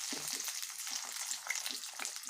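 Mithila taruaa, pakora-style fritters, sizzle steadily in a frying pan just after being flipped, a dense, continuous crackle of hot oil at close range with no talking.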